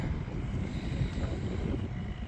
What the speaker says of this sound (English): Bit of a windy day here.